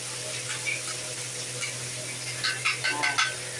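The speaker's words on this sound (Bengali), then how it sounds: "এই আদা পুড়ে দিচ্ছে, এটা ভাজা হচ্ছে" Soft sizzling of ginger frying in a pan and faint clinks of stirring, gentle and close, with a steady low hum underneath and no talking.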